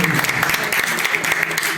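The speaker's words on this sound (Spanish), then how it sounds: "Yo te voy a pedir que le des un aplauso al Señor con todas tus ganas." A church congregation claps together in sustained, dense applause, close and lively, with faint voices mixed in.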